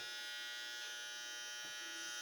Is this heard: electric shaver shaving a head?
yes